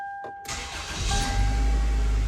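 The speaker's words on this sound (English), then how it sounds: "First, we'll confirm that the vehicle still starts." A car with an EGR fault cranks briefly and then catches, the engine settling into a steady, close idle rumble that carries on to the end.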